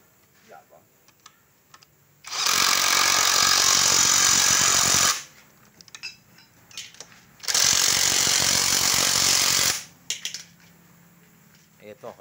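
Two long bursts of rapid mechanical rattling from a tool working on a car wheel, each a few seconds long and close and loud, separated by quieter handling noises.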